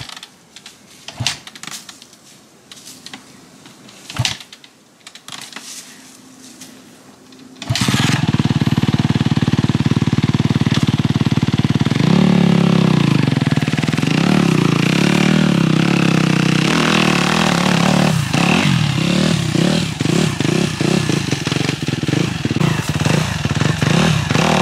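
A Suzuki RMZ 250 motocross bike engine starts up close and loud after a quieter stretch, then runs continuously with revving and rising and falling pitch.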